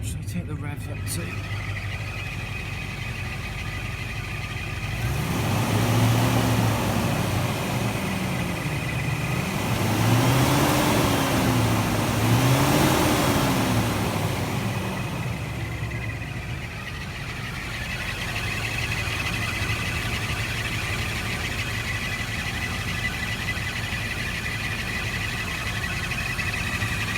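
A Rover SD1 engine idles, then revs up twice in rising and falling sweeps while its alternator is tested with ancillaries switched on. It settles back to a steady idle, with someone talking over it at times.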